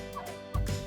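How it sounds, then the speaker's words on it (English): A wild turkey gobbles in two short bursts, fairly close and clear over a steady background hum. "Wild turkeys can fly at speeds of up to 55 miles per hour and roost in trees at night to avoid predators."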